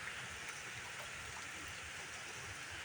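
Heavy rain pours steadily during a storm in Pennsylvania, a dense, even hiss that stays constant throughout, heard from some distance with no clear thunder.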